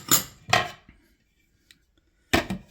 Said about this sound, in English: Get on top, spread it around a little bit so we can get our lid on.